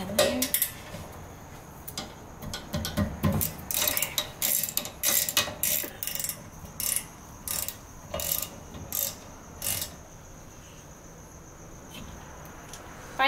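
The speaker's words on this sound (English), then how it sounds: "There's two slide bolts here that we'll be removing right now." A ratchet works loose the hex slide bolts on a rear brake caliper during a disc brake job. Close, repeated bursts of clicking recur at an irregular pace over a faint steady background hum.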